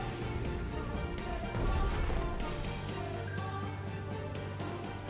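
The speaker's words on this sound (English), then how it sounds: "The rain dissipates into a beautifully clear night sky" Rain in the naval strategy game Strategic Mind: The Pacific falls as a steady, dense hiss with fine patter, continuous throughout with no talk over it.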